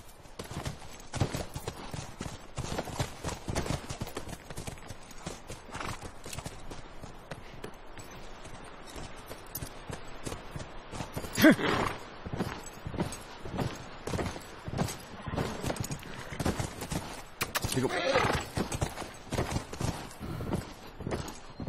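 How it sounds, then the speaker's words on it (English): Horses walking with steady hoof clip-clops in The Last of Us video game, a continuous rhythmic clatter running throughout at moderate loudness, a few louder hoof strikes standing out, whinnying not evident. "Back to the horses."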